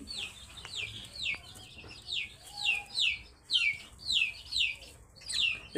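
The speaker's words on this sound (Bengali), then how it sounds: "দেখেন আমরা ঠোঁট ছেঁকা দিচ্ছি" Hill-breed chicks of a large poultry breed cheep in quick, high bursts during beak trimming on a farm. The calls are fairly close, repeating in an uneven rhythm over a low background hum.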